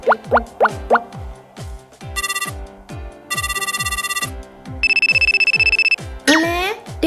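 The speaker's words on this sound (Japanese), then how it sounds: "電話が鳴ってる" A toy phone rings with bright electronic ringtone bursts and repeated chirps, mixed with plopping toy effects, loud and close.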